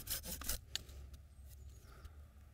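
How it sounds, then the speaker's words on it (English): A Silky pruning saw cutting a tapered point on a hazel upright for a wattle fence, a few quick rasping strokes at the start, then fainter scraping and rubbing, close and fairly quiet with no voices. "So I'll use my silky blade to cut a slight tapered edge"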